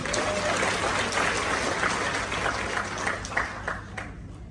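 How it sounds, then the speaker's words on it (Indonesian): An audience at an Atomy company introduction event in Jakarta applauds in a continuous, full crowd roar of clapping, a few sharper claps standing out as it tapers slightly. "Tepuk tangan untuk Atomi."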